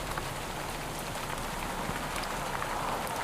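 Steady rain falls on streets, a close, even hiss of drops on hard surfaces that continues unchanged throughout with no voices.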